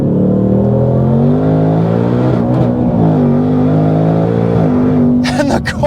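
Hennessey supercharged Ford Mustang Dark Horse V8, tuned to 850 horsepower, pulls hard in a loud, sustained engine roar. The pitch climbs steadily, then a brief gear-change break and crackles come near the end.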